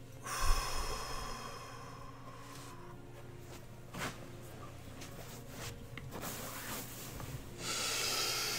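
Slow, deep breaths drawn during a breathing exercise, close and fairly soft, with a sharper intake near the start and a few more breaths following at an unhurried pace, no talking.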